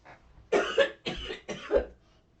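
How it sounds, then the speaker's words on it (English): A person with a cold coughs three times in quick succession, each cough harsh and close to the mic, with short pauses in between. "I'm going to keep coughing"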